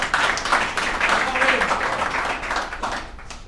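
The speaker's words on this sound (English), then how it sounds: "Let's give him a round of applause" Applause at an alumni recovery meeting as the main speaker comes up: a dense, steady wash of clapping with voices mixed in, tapering slightly at the end.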